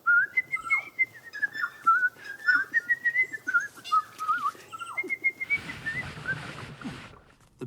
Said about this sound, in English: Oh, what's that, Tui? You want to sing a duet?